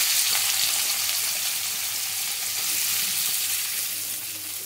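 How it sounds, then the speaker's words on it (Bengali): Chopped onions frying in oil for a dried red chilli chicken dish, a steady broadband sizzle holding at an even level throughout, with no voices. "তো পেঁয়াজটা দিয়ে ভালো করে লাল করে ভেজে নিয়ে ফিরে আসি।"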